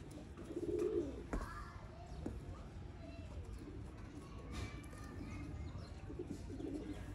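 Fancy breeder pigeons from Sialkot cooing at moderate distance, soft low coos repeating over a steady ambient background, with a slightly louder burst near the start.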